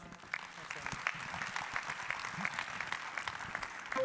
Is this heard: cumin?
no